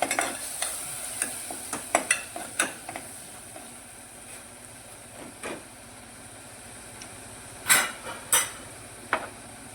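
Spices and tomato puree fry and sizzle in a pan while a spoon stirs, scraping and tapping against the metal in irregular bursts, with a steady hiss underneath and a few louder clanks near the end.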